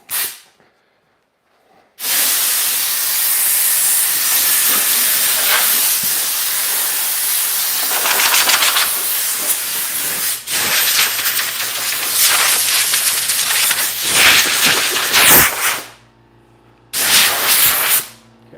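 A workshop air compressor runs while compressed air blows off dust, a loud continuous hiss lasting many seconds with a low motor hum underneath, stopping briefly before a final short blast.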